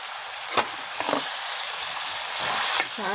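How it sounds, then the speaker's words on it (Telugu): Onions with curry leaves, ginger-garlic paste, turmeric and salt frying in oil for a fish curry, a constant close sizzle punctuated by a few sharp stirring scrapes and clinks, with no voices. "చాలా దగ్గరికి మంచి బ్రౌన్ కలర్ వచ్చే వరకు వేపుకోవాలండి ఉల్లిపాయలు"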